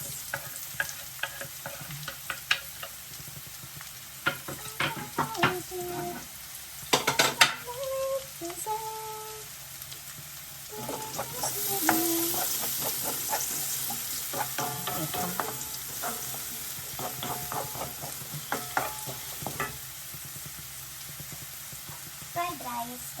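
Garlic and onion sizzle and fry in a pan while a utensil stirs and scrapes in steady bursts, with occasional clinks of metal, close and fairly loud throughout.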